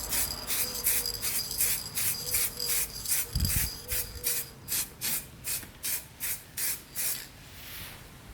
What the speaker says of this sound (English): I put a much thicker layer of lacquer on those areas where the scaling was most severe.